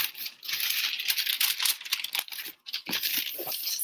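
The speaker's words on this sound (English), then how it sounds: "And then I'm going to take the parchment paper," Parchment paper crinkles and rustles as it is handled and smoothed flat over paper backed with matte gel medium during a craft project, a close, continuous dry crackle with brief pauses.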